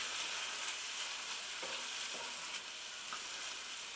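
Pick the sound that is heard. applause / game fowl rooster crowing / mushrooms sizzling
mushrooms sizzling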